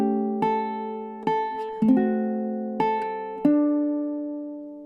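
Ukulele chords plucked one at a time in a slow bluesy progression, each ringing out and decaying before the next, clear and close.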